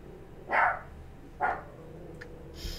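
A pet dog barks twice indoors, with a third fainter yip after, each bark short and moderately loud over a low background hum.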